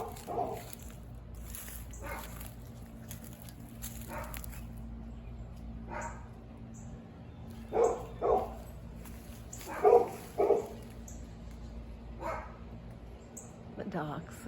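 Dogs bark in scattered pairs from a distance, with quieter yips between, over a constant low outdoor hum.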